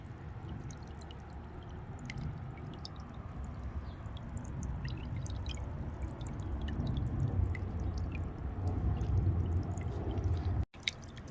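Water from a Biling 2.5W solar fountain pump splashes and trickles steadily into a bird bath outdoors, a close, continuous patter and drip running unbroken with no voices.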